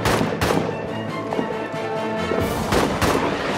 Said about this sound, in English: Watch out for bloody artillery. That landed right next to where I said to go.